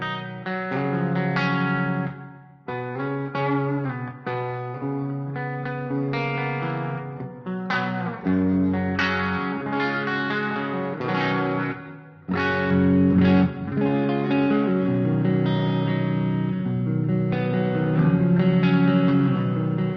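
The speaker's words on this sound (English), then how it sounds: "So big reverb changes to the air reverb." Electric guitar chords ringing out under a big, washy air reverb on a HeadRush JCM800 rock preset, sustained strums with short gaps, loud and full with no voices.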